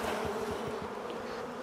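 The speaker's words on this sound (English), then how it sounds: "So, to get bees off a frame, you do a sharp movement" A thick, steady swarm of honeybees buzzes loudly and close as they are shaken off a hive frame, a dense drone with no gaps.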